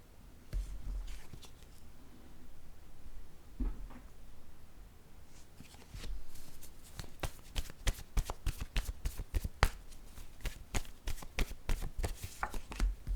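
Tarot cards are shuffled by hand, first as soft scattered rustles, then as a fast, crisp run of riffling flicks that grows close and busy toward the end.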